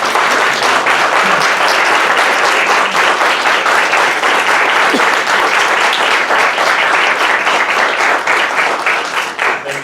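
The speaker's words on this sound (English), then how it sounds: "Let's give all of our panelists a round of applause." Full, sustained audience applause for the panelists at a college film screening talkback, loud and dense throughout with a faint cheer or voice in the crowd.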